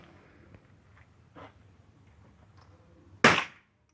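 A single sharp gunshot, from a 12-gauge shotgun or .22 rifle at target practice, cracks out near the end after a few faint knocks and rustles, loud and fairly close with a short decay.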